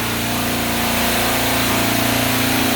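A Hill Phoenix refrigeration rack compressor runs as a loud, steady mechanical drone, its constant hum unbroken throughout.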